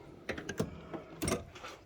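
A drawer on a Harbor Freight US General 26-inch tool box slides open with metallic clicks and rattles, a few sharp clatters of tools shifting inside, close and fairly loud.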